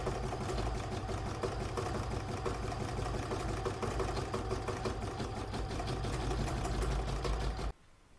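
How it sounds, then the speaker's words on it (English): An embroidery sewing machine stitches a steady satin stitch, with a continuous rapid mechanical chatter and hum that runs unbroken and close, then stops abruptly at the end. "I'm now going to stitch round number 8, which is the satin stitching around the machine and the machine details."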